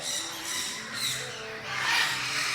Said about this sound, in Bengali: এত চেঁচামেচি পাখির পুরো কোলাহল